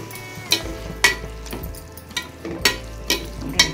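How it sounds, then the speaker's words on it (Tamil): Vada curry masala sizzling and bubbling in a pan with several sharp spattering pops at irregular intervals over a low steady simmer. "ஒரு நிமிஷம் அப்படியே கொதிக்கட்டும்."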